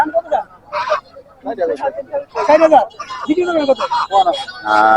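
At a village market, nearby turkeys call in short, rough, honking bursts, several loud calls following one another in quick succession.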